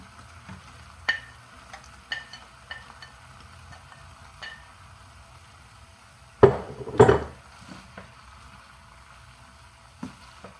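Shrimp and asparagus sizzle quietly in a pan under sharp utensil clinks, with two loud scraping bursts as the vegetables are added back and stirred.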